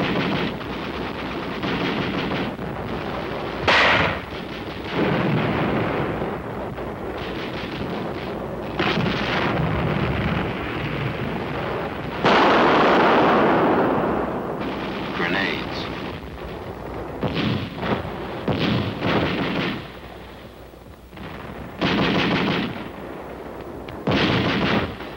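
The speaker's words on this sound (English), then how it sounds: "Millimeter mortar. Bites like a 75 gun shell." Mortar fire in 1951 Korean War color documentary footage, a series of sharp booming blasts and rumbles scattered through the recording, mixed under a narrator's voice with old film hiss.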